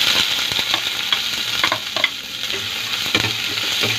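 Onion and garlic sautéing in hot oil for pork sinigang, a close, steady sizzle with scraping stirring strokes through it, no voices.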